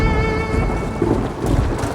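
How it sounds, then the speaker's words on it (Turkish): Thunderstorm on a stormy night, with a steady wash of rain and low rumbling thunder swelling and fading across two seconds, constant and fairly loud with no voices. "Önce alabora, sonra büyük bir fırtına."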